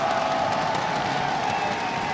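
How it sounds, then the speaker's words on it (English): Arena crowd cheering and applauding at a Clash Royale esports world final, a steady dense roar of many voices held at an even level throughout. "And the crowd loves it."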